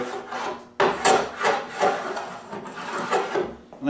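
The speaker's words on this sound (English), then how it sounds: "We'll hit it with the sander." A sander works over a wooden tongue-and-groove cabinet door in rhythmic back-and-forth passes, close and moderately loud, with short gaps between strokes.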